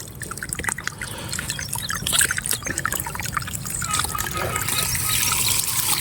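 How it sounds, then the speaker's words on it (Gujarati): Water trickles and drips from an irrigation pipe on a farm field in a steady, close, uneven dribble that grows fuller and more continuous toward the end, with faint voices in the background. "તો મિત્રો નીકળ્યું પાણી"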